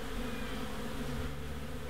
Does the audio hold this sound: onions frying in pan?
no